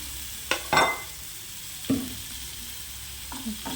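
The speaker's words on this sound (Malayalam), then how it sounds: "അപ്പോൾ നമുക്കിത് മിക്സ് ചെയ്തുകൊണ്ടിരിക്കാം" Prawn roast mixture with chopped tomato is stirred in a frying pan: a few distinct spoon scrapes and clatters sit over a quiet, steady sizzle, with no one talking.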